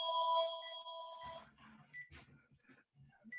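A phone ringtone with a sustained, bright electronic tone sounds for about a second and a half during a public hearing, then cuts off as murmured talk and room noise continue.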